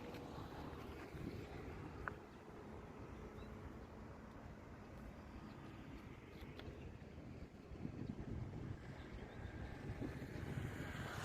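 Strong wind buffets the microphone with a constant low rumble and roar, gusting louder toward the end, with faint water sounds beneath.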